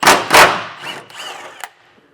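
Impact tool on a 13/16 socket removing factory hitch bolts from the frame of a 2024 Ram 1500, with two sharp loud bursts followed by fainter rattling and clinks.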